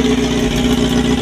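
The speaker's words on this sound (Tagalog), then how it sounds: "Tahimik ng makina oh." A restored Suzuki GSX-R inline-four motorcycle engine idling on its first run, a steady smooth low hum with an even pulse that holds constant and close throughout.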